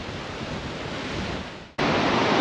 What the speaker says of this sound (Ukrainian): І весь час вітер дме з моря.